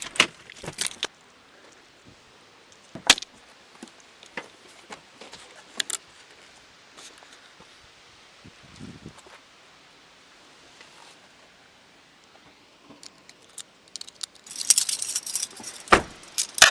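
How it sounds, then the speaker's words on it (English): Keys jangle in a video game with bursts of metallic clinking scattered through the clip, the loudest coming near the start and in a busier cluster near the end, with quiet stretches in between and no voices. "Here, take the keys."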